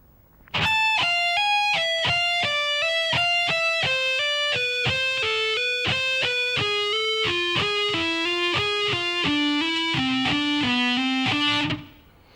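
Distorted electric guitar plays a slow shred lick, a steady run of clearly separated picked notes stepping gradually downward in pitch, loud and alone for about eleven seconds.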